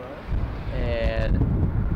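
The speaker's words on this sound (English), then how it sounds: "It's really windy" Strong wind roars against the microphone in a low, continuous buffeting rumble during a blustery near-whiteout in Arizona elk country, while a voice speaks faintly underneath.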